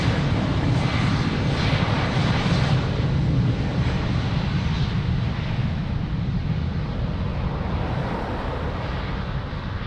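A fixed-wing airliner on approach to land at Lisbon Airport produces a loud, steady engine roar with a deep rumble and broad hiss, gradually easing in level, with some wind buffeting and no voices.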